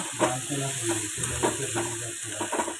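Curry leaves, black cumin and green chilli crackle and sizzle as they hit hot oil for a tempering, with a spoon stirring through the steady frying hiss.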